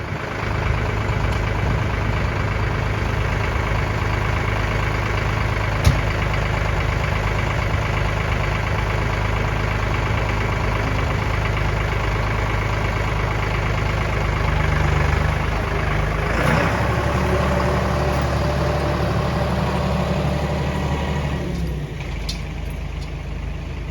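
Older Kubota L2550 tractor with a homemade cab, its diesel engine idling steadily and loudly with a knocking chug, the note dropping and shifting briefly near the end.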